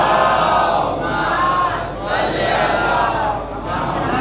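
A large gathering at a Jashn-e-Ghadeer religious event, the audience chanting salawat together in loud, swelling unison waves that fill the space.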